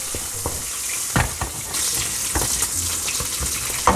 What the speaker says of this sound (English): Let's caramelize and crispify this pork. Watch out for those pops of burning hot pork fat.